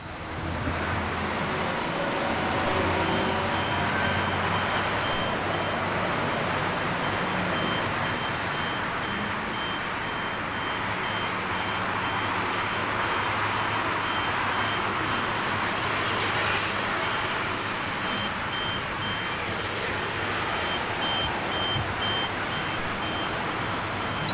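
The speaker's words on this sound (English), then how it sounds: "Listen out for the second engine as it starts up." GE90 jet engine spooling up at Heathrow airport, a loud, broad roar with a thin steady whine on top, heard from outside at a distance and building gently over about twenty-four seconds.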